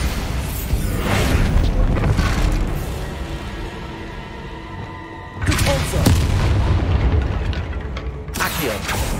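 Bombarda spell explosions in Hogwarts Legacy, loud booming blasts with crunching debris in two bursts separated by a quieter gap, with a voice in between.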